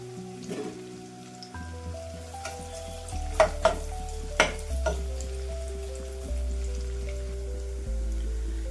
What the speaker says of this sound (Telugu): ఆనియన్స్ పూర్తిగా బ్రౌన్ కలర్ వచ్చే వరకు వేయించుకుందాము.